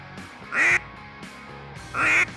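A handheld duck call blown in two short, loud quacks with a brief pause between them, heard alone up close.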